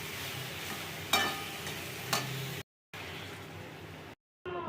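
Water poured into a hot pan of spiced potato masala, a steady frying hiss with two brief louder sizzling bursts and splashes, broken by short silent gaps.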